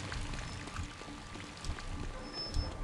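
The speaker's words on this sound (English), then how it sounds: "Water's flowing." Steady flowing water from a game level in Clive Barker's Undying, a continuous wash of broadband rushing with scattered splashy drops, moderately loud and heard alone.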